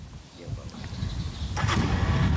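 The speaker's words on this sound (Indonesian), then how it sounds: "saya mau coba ini naik dan menyalakan untuk membuktikan apakah bensin sawit ini bisa untuk menyalakan motor di sini" A motorcycle engine starts on palm-oil gasoline outdoors, a low rumble building and settling into a steady idle over a couple of seconds beneath crowd and background noise.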